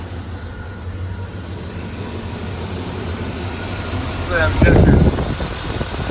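A 1995 GMC Sierra 2500 with a blown head gasket runs at a steady low rumble, its idle loping slightly with a faint miss, while someone talks over it and the engine swells briefly louder near the end.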